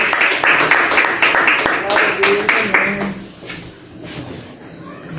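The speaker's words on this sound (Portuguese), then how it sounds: "Vamos a dar un fuerte aplauso." A church congregation claps loudly and rhythmically at a missions service, the dense applause fading out after about three seconds into quieter room sound.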